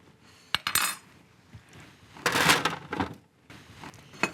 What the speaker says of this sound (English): And spread this in one layer.